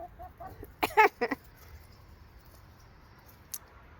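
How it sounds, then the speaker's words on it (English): A few short, sharp clucks from a backyard flock of hens close by, clustered in a quick burst, then a lone faint cluck after a quiet pause. "I've got 11 hens."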